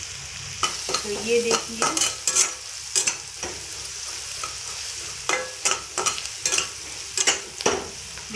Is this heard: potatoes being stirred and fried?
yes